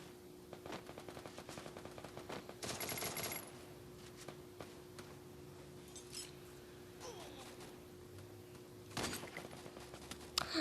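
Rapid bursts of automatic gunfire in a shooter video game, some clusters dense and sharp, others sparser, playing at a moderate level over a steady background hum with faint talk underneath.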